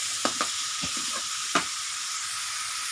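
Chicken and Chinese cabbage stir-fry in a pan, with a steady, quiet sizzle broken by a few sharp scrapes of a utensil against the pan.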